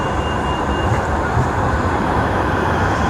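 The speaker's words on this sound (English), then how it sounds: "And that was the tram as well." A tram rolls past in Manchester, a steady broadband rumble and rush that stays loud and close for the whole short stretch, with no talking.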